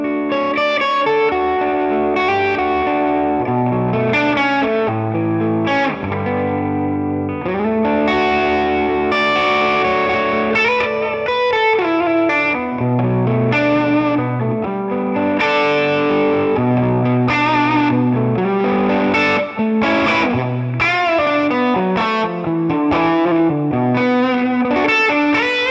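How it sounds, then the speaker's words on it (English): Gibson Collector's Choice 17a Les Paul electric guitar with Burstbucker pickups plays a continuous distorted run of picked notes and chords at full volume, loud and close, with chorus-like shimmer and no voices. "you can hear how dynamic the guitar is"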